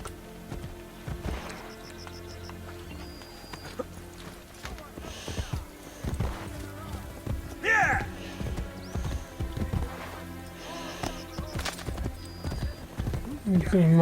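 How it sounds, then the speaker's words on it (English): Horse hooves clip-clopping at a gallop in Assassin's Creed Brotherhood, a busy run of hoofbeats with an occasional whinny, mixed with game sounds and spoken dialogue. "Let's go with the horse."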